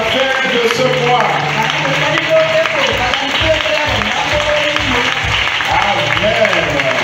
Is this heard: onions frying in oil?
no